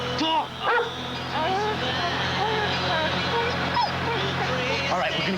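A dog whimpers and yips in short, high, wavering cries that continue under steady overlapping talk and background sound from a television drama.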